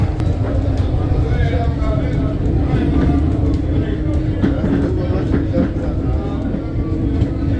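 A passenger train runs along an upgraded railway line between Pretoria, Mabopane and De Wildt, giving a steady, loud rolling rumble and clatter that holds throughout, with voices talking over it.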